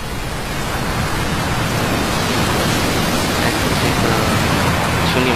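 Steady heavy rain from the video game Metal Gear Solid Peace Walker, a dense continuous broadband hiss that stays loud and even throughout with no talk.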